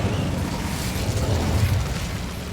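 Incendio fire spell cast in Hogwarts Legacy, a loud, continuous roaring blast of flame with a deep rumbling low end, sustained throughout without pause.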